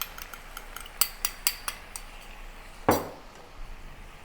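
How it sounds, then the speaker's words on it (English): Bok choy being stirred with stir-fry sauce in a pan: a run of light metallic clinks and scrapes of a utensil, then one louder scrape, over a faint sizzle. "Now add the stir fry sauce to the pan, combine with the bok choy."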